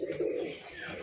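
Pigeons in a home loft coo softly and steadily at close range, a low rounded call with no speech over it.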